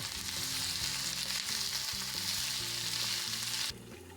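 Mutton and onions fry in a pan, giving a loud, continuous close sizzle with stirring, before the sizzle drops off sharply near the end.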